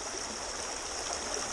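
Water runs steadily through a gold prospecting sluice with an arc-profiled channel somewhere in Scotland, giving a constant, close rushing hiss with no pauses and no voices.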